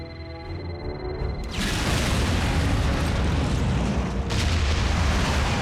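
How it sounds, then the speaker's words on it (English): A loud, close proximity bomb explosion in an animated Transformers: Prime episode erupts suddenly and roars on as a sustained rumble, swelling once more near the end. "Proximity bomb. Supposed to take us both out."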